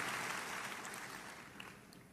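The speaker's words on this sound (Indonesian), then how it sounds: "Berikan tepuk tangan kita untuk Tuhan kita." Church congregation applauding together, a dense wash of clapping that starts loud and slowly tapers off over about two seconds, with no talk over it.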